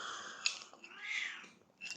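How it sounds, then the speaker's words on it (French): A house cat meows near the microphone, a few short calls across two seconds with quiet pauses between them and no talking. "Miaou, miaou, miaou. Toujours."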